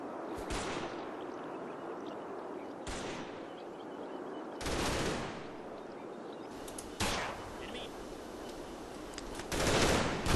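Squad gunfire in the Combat Mission Market Garden World War II video game, with several bursts of rifle and machine-gun fire at irregular intervals over a low ambient battlefield rumble.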